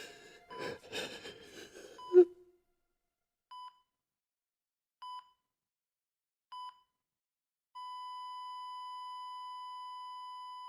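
A series of electronic beeps from a monitor in a Spider-Man fan film scene: three short, evenly spaced tones after a brief burst of activity, then a long sustained flatline tone, all clear and isolated.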